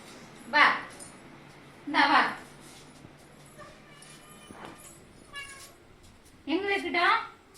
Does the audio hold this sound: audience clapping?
no